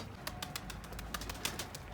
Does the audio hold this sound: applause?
no